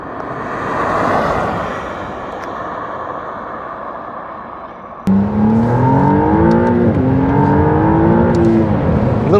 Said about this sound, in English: Who wants to see 0 to 60 in electric only mode?